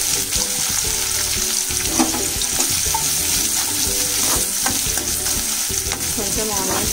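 Spices and a couple of leaves fry in a little hot oil for a chicken fry, producing a loud, continuous sizzle broken by frequent scraping and clinking stirs, with no voices.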